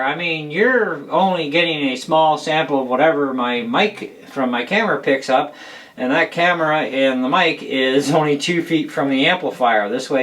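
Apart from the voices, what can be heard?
None of the usual background noises is heard.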